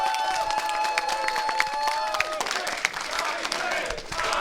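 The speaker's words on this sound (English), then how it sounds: "he deserves a special round of applause" Audience applause and cheering for a host at a gaming event, a busy crowd of claps and voices throughout, with a sustained tone fading partway through.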